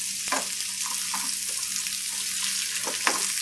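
Food sizzles steadily in an oiled pan after being flipped, a continuous broad hiss at moderate level with a few faint clinks and scrapes scattered through.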